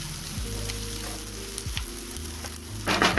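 Red chillies, bay leaves and onions fry in hot oil with a constant close sizzle, broken by occasional stirring scrapes and a louder sputter near the end.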